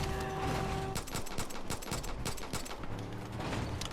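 Rapid bursts of automatic gunfire in the video game Far Cry 5, dense crackling shots in a steady barrage over a constant game background, with no talk.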